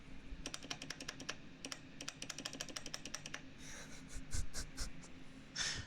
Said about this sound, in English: But it is a really quiet keyboard.